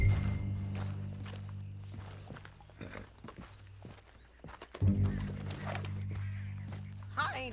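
Steady hoof clops of a horse walking in the video game Red Dead Redemption 2, mid-distance, under a low rumbling ambience with occasional speech.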